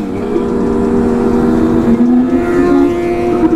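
A Kawasaki ZX 1000cc motorcycle revs loudly and close by, its engine drone rising and wavering in pitch before the sound sags and falls away as the engine stalls.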